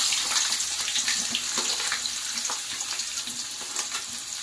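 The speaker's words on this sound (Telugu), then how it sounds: "అవి కొంచెం బాగా గోల్డెన్ బ్రౌన్ వచ్చే వరకు మనం దాన్ని బాగా ఫ్రై చేసుకోవాలి" Onions and green chillies frying in hot oil in a pan, a steady close crackling sizzle with light stirring scrapes, no voices.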